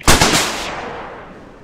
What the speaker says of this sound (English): If you can give me more ammo, I'll try to take that tank out with the tow.